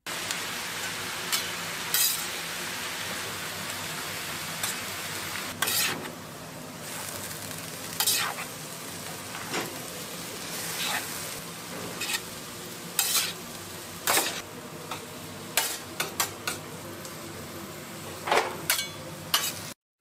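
A sizzling hamburger filling gets stirred in a pan, a steady frying hiss broken by repeated scraping strokes and occasional sharp clicks of the utensil, close and continuous without talk.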